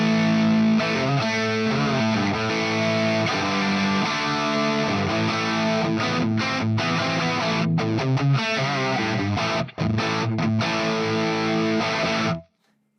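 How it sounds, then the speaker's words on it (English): Electric guitar through a dimed Marshall Plexi 100-watt amp model on a Fractal FM3, loud, crunchy distorted chords and riffs with short choppy breaks, ending in a sudden stop. "Now that sounds like a dimed Marshall."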